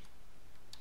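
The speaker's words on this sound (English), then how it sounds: "and I'm going to type here" Computer keyboard typing during Windows Server setup, a brief light run of close key clicks over faint room hiss.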